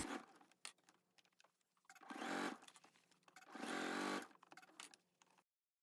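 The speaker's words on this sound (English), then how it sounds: "I always like to stitch down my waistband starting at the center back." A sewing machine stitches down a skirt waistband, with two sustained bursts of whirring motor noise of about one and a half seconds each between softer handling clicks and fabric rustle, close and fairly quiet.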